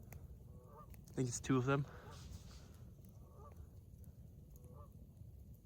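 Canada geese honk from across coastal water at night in late March, a short burst of several calls at moderate distance, with someone speaking quietly nearby.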